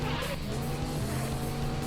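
Race car engine roaring steadily with tire squeal in a PlayStation 2 racing game, a loud continuous drone that barely changes over the short stretch, with no talking.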